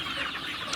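A short burst of dense chicken clucking from a crowded flock, steady and busy with no voices.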